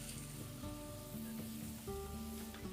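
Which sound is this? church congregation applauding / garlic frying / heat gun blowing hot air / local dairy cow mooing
garlic frying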